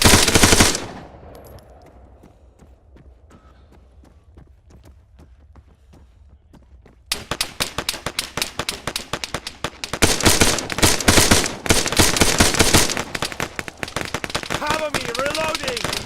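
Rifle fire erupts in an Arma 3 combat mission: after a quieter stretch of scattered distant shots, loud rapid bursts of automatic gunfire break out and keep hammering close by.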